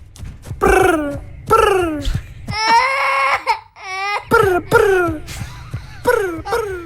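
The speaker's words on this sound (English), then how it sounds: "This is the sound of an ostrich running up and scaring a child." A young child wails and sobs in a series of loud, rising and falling cries with short gasping pauses, said to follow an ostrich running up and frightening the child.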